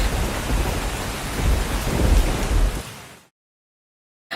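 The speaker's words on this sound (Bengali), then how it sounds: "বাইরে সারা রাত ঝড় বৃষ্টি হয়।" Heavy rain pours down with a rumbling thunderstorm, loud and steady, then cuts off abruptly into silence before a brief final burst.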